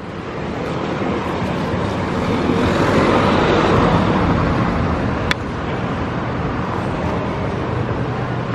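A car passing close on a street in Istanbul, a broad roar that swells to a peak midway and then fades, over a constant wash of traffic.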